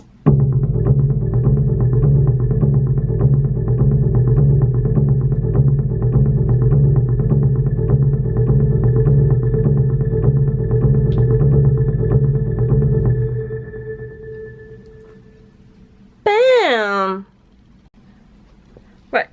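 Several asynchronous polyrhythmic loops layered and played together, a dense steady tonal texture with a pulsing low end that holds for about thirteen seconds before fading, then a brief sweeping tonal swirl near the end.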